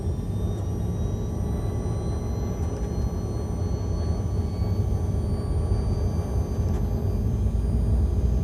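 A steady, heavy rumble of Airbus airliner engines spooling to takeoff thrust on the runway, heard from the flight deck as a continuous dense roar with a faint high whine above it.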